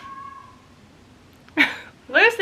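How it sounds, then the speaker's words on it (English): A pet cat meows twice in a quiet indoor room, two short, clear calls near the end, each a little louder than the faint background hum before them. "Please ignore her. It's a cat, believe it or not."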